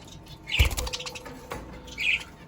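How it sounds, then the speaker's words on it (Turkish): Budgerigars chirp in a pet shop, giving a few short, bright tweets and a brief flutter against faint background noise. "Burada gene muhabbet kuşları."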